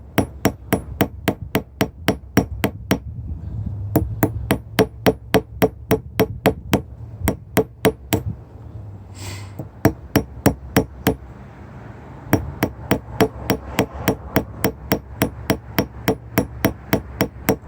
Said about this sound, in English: If you want to do it with a little ball peen hammer, that's fine.